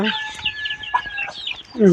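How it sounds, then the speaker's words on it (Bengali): Native chickens in a pen cluck and chatter up close, with overlapping short calls and a louder squawk at the end. "আমাদের দেশি মুরগিগুলোকে এটাতে রাখতেছি"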